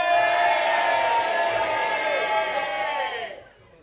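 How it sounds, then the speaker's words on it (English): A studio audience cheers loudly together, a dense sustained roar of shouting and whooping voices that fades out near the end. "Let's practice a bit of cheering."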